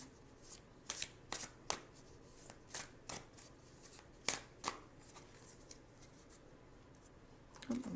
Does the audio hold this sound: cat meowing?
no